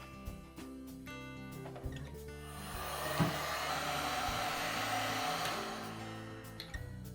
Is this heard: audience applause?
no